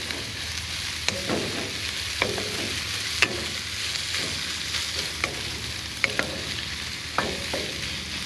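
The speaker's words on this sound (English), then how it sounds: "constantly keeping a stir on it so nothing burns, and that oil's gonna help keep everything from sticking to your wok" Pork fried rice stir-fries in a wok over medium heat with oil, a steady sizzle punctuated by sharp spatula clacks and scrapes against the metal at irregular intervals, close and clear.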